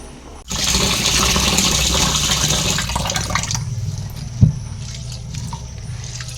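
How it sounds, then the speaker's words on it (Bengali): Water rushing and sloshing as biryani rice is washed in a kitchen, a steady splashing wash that starts abruptly, eases off, and ends with a single sharp knock before quieter trickling. "চালটাকে ভালো করে আমি ধুয়ে পরিষ্কার করে নিচ্ছি"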